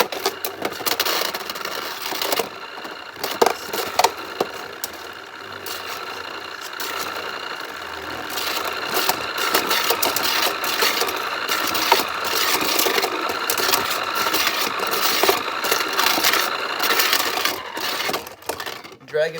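Beyblade tops spinning and clashing in a Motor Strike stadium, a dense rattling whir with sharp metallic knocks and clicks, loud and close throughout.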